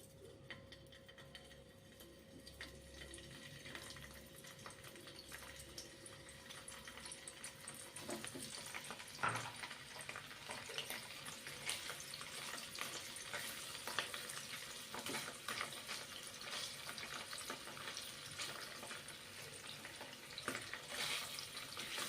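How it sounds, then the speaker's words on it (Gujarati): Paneer frying in a pan over a medium gas flame, a quiet continuous sizzle that grows slightly fuller partway through, with faint occasional clinks and no talking. "તો આપણે આને મીડિયમ ગેસ ઉપર પનીરને તરી લેશું"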